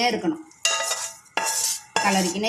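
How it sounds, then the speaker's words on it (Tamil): Morkali being stirred in a rice cooker: three bursts of a metal spoon scraping and clinking against the pot, close and loud, separated by brief quieter gaps, no one speaking. "இப்படி கலந்து விட்டுக்கினே இருக்கணும், கிளறிக்கினே"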